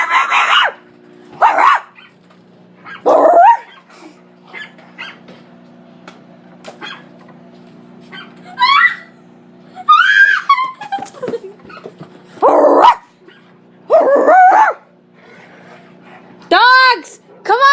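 Several dogs bark and yip in bursts while romping with each other, some barks deep and others high and whining, spread across the scene with quieter gaps between flurries.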